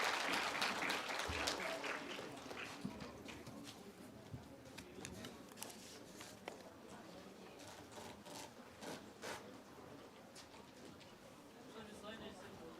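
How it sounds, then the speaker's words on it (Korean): Faint congregational clapping in a church after a prayer, steady and diffuse across the whole stretch, mixed with room noise and low murmuring. "우리 박수로 함께 격려하겠습니다."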